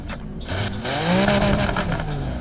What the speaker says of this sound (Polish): W ten też sposób przechodzimy sobie tak naprawdę już do dźwięku wydechu